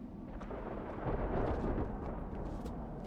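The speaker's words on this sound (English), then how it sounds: "thunderstorm approaching, I hear." Thunderstorm building in a horror video game set in a village, a continuous low rumble of rolling thunder with a swell in the middle, steady and fairly loud, with no voices over it.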